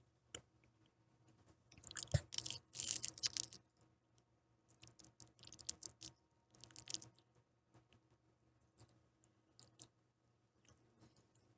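Someone wearing dentures chews food close up, producing bursts of wet crunching and squishy bites separated by short pauses, fairly quiet and without talking.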